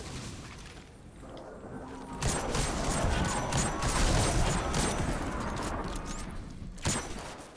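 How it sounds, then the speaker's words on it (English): Gunfire in the Destiny 2 video game, with dense overlapping shots and impacts over a rumbling battle backdrop. The noise is loud, with a sharper burst of shots in the middle and a final crack near the end. "A couple of shots and we're done."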